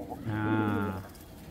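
Pigeons kept in a cage coo in one low, throaty, close-up call that lasts about a second, with no other sounds around it.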